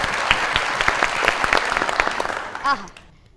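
Audience applause at a stage show with an Urdu voice-over artist, a crowd clapping steadily with a few sharper individual claps, fading out near the end as a voice briefly comes in.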